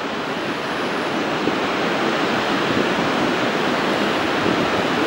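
Continuous roaring rush of surf, loud and unbroken, like waves breaking steadily nearby with heavy wind noise over the microphone, as the tide rushes in under the Grand Pier in February.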